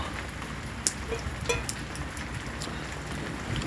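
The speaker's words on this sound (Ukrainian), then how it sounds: "У нас дощить." Steady spring rain falling outdoors while rainwater is collected for watering seedlings, a soft continuous hiss with a few sharper drip and splash ticks, moderately faint and without speech.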